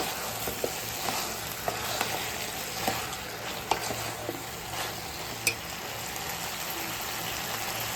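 Vegetables frying in coconut oil for prawn curry give a soft, even sizzle, with scattered light clicks and taps from stirring throughout.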